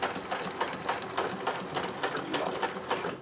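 A sewing machine stitching a pleated fabric gift, running as a steady rapid mechanical whir with regular pulses, close and clear throughout.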